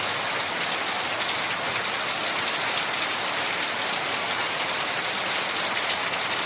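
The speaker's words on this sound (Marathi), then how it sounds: "हा श्रावणातला ब बरसणारा पाऊस" Heavy monsoon rain pours steadily during the Shravan season, a dense, even hiss of downpour that stays loud and constant throughout with no talking over it.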